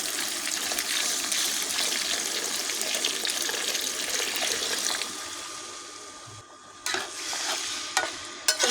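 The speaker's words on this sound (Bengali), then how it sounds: "ভালো করে নেড়ে দিলাম তরকারি" Quail curry being stirred in a cooking pot after water was added, with a steady wet sizzling and scraping that fades slightly near the end, followed by a few brief clinks.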